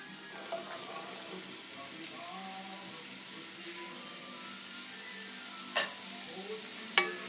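Celery goes into a pot for lentil soup, giving a soft, steady sizzle and a stirring rustle at low volume. A couple of brief clinks come near the end.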